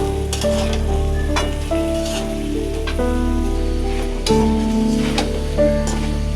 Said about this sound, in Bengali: তরকারিটা এখন কষাইতেছি